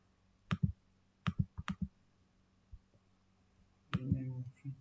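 Several sharp computer mouse clicks, singly and in quick pairs, spaced across the moment, with a low murmur of speech in the background near the end.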